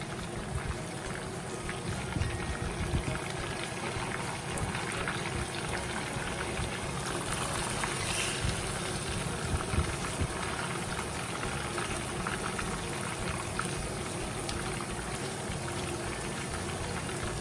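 Chicken pieces, drumsticks for chicken fry, sizzle and bubble steadily in hot oil, with a dense, continuous crackling hiss that holds at an even level throughout, close by and with no voices.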